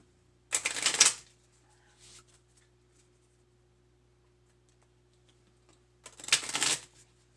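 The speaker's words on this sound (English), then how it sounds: "I have the deck of cards sitting right here for the deck of TBR that I was playing in August. Okay, so I'm gonna shuffle them." Two quick bursts of a deck of playing cards being shuffled close up, each lasting about half a second, separated by a long quiet pause with faint handling noises.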